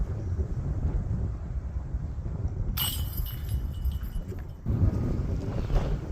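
Wind gusts steadily across an open disc golf course at Palmer Lake, a continuous low rumbling buffet against the microphone that swells louder near the end, with no talking.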